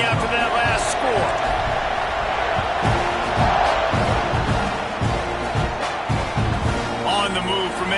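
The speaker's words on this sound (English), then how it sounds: "this crowd is buzzing after that last score" Dense roar of a stadium crowd in the College Football 26 video game, loud and constant throughout with scattered thumps and shouts, while a commentator talks over it.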